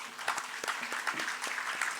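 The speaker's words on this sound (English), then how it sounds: "can we have a loud round of applause?" Applause from an audience at a literature and art festival session in Bhopal, a soft, fairly distant patter of clapping with scattered sharper claps, steady for about two seconds.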